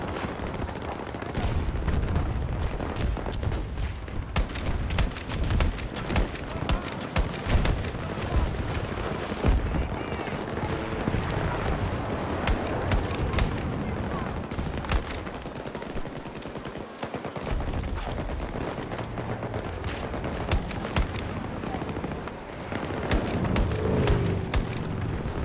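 Gunfire from a marksman rifle and a wider battle in Battlefield 2042 crackles almost nonstop, with dense overlapping shots, bursts and booms packed close together throughout, loud and chaotic, without talk.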